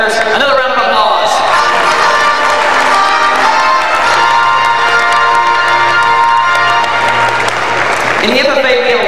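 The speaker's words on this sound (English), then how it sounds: "let's give those Ag Sales Career Development Event Result winners another round of applause." An audience at a 1997 FFA state leadership conference session gives loud, sustained applause with cheering and whoops, a dense crowd roar throughout, with a voice briefly heard near the end.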